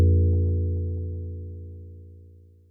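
A gong-like tone made by FM synthesis in Phase Plant, imitating a Javanese gong: a low, dense metallic drone with a faint clangy attack at the start, slowly fading over a couple of seconds.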